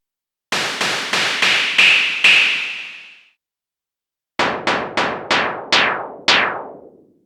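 A synthesized drum hit with a sharp click from the Iconic V drum plugin repeats in two quick runs of sharp, loud strikes, the first run ringing with a tonal decay, the second shorter and drier, with silence between.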